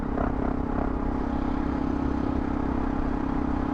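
A Yamaha Tenere motorcycle engine drones steadily nearby, a constant low rumbling exhaust with some clatter and no change in pace.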